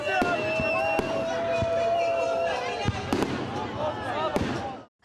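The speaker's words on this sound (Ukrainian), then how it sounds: "У небі пролунало 12 пострілів" Repeated New Year's Eve fireworks bangs burst at irregular intervals, sharp cracks echoing over a steady crowd murmur and whistling trails.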